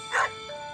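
A dog in the video game Stardew Valley gives a single short, bright bark, close and clear, followed by a faint softer yip over a quiet steady background.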